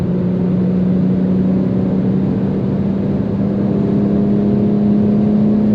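A 2021 BMW M4 Competition, rear-wheel drive, accelerating at high speed, heard from inside as a steady, loud engine drone with a rising tone and road roar, without talking.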